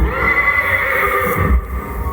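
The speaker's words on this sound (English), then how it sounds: "Horses paw impatiently as the knights lower their lances." Loud horse whinny in a medieval knights' jousting video game, with hooves clip-clopping and pawing beneath it and no voices.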